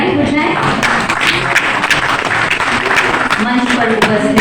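Steady applause from an audience at a national honor award ceremony, dense continuous clapping lasting several seconds with voices mixed in beneath it.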